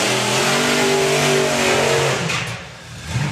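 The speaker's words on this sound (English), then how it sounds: "I can hear a supercharged engine behind me." A supercharged drag racing car at a drag strip revs hard and loud with a rising engine note, then fades and drops away, followed by a quieter stretch with a brief bump of sound.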